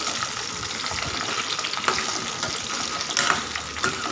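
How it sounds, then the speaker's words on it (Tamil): Okra sautés lightly in oil for a tamarind curry, giving a continuous close frying hiss with small irregular crackles and stirring scrapes. "சேர்த்துட்டு அதை ஒரு நிமிஷம் வந்து நம்ம ஆயிலே லைட்டாக வதக்கி விட்டுக்கலாம்"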